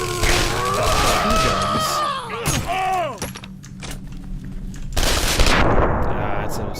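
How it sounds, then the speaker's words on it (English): A submachine gun in Condemned: Criminal Origins fires rapid automatic bursts, loud and close, interrupted by a brief quieter gap before another burst, with clattering impacts mixed in. "It's a submachine gun."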